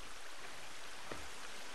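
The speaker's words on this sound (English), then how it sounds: "Epic waterfall." Steady broadband rush of a waterfall in a video game, constant and fairly loud across the whole stretch, with no talk over it.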